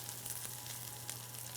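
Breaded chicken cutlets sizzle steadily in a frying pan with a continuous close hiss and faint crackle and a low hum underneath.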